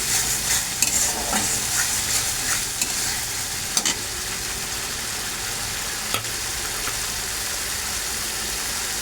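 Spice paste sautés in a pan for a Bengali raw-banana dish, a steady broad sizzle with repeated scraping stirs and occasional sharp clacks of the spoon against the pan, close and continuous, with no talk.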